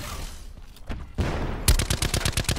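Rapid automatic gunfire in a video game, a fast regular burst of loud close shots following a few scattered earlier shots and a heavy blast.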